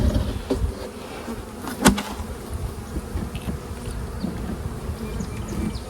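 Honeybees swarm around an open beehive during a hands-on beekeeping class, a dense continuous buzz close by, with occasional louder passes and a light knock from equipment.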